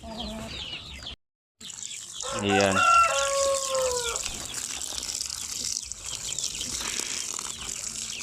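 Basilan native chickens crow and cluck at close range, with a long rising crow standing out after a brief gap, and a brief spoken word over a busy background of scratching and water.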